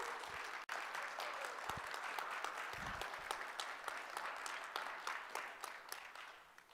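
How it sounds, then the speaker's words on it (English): A Sunday school congregation gives a round of applause for Mac: sustained, close clapping that stays strong throughout, then gradually thins and softens toward the end, with a couple of low thumps mixed in. "So give him a round of applause."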